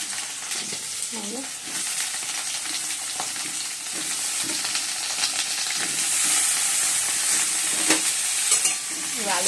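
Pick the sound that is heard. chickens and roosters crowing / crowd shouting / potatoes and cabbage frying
potatoes and cabbage frying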